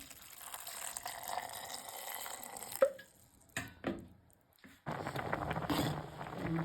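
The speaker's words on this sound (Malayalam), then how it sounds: "ഇനി അരയാൻ ആവശ്യത്തിനുള്ള വെള്ളം ഒഴിച്ച് കൊടുത്ത് നന്നായിട്ടൊന്ന് അരച്ചെടുക്കാം" Water poured onto boiled tomatoes in a grinder jar, a steady trickling fill, a brief clunk, short gaps, then more pouring and splashing up close.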